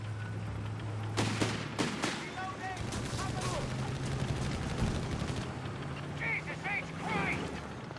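Battle in Company of Heroes 3 with DAK against US forces, including an M8 Scott and flak: sharp gunshot bursts and rattling fire crack out over a steady low engine drone, with chirping effects, while game commentary runs underneath.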